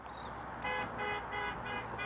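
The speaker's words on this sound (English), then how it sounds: "but they're always honking at you" A car passing on a highway in the Florida Keys honks at anglers fishing beside the road: a few short horn toots over steady traffic noise, moderately close.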